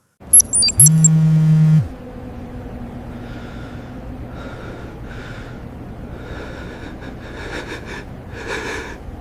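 Heavy, ragged breathing from a man in an AI-generated Seedance 2.0 scene, a series of gasping, wheezy breaths building toward the end, heard alone after a brief opening tone.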